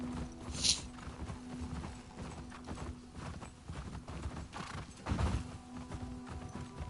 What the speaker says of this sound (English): Can I get off my horse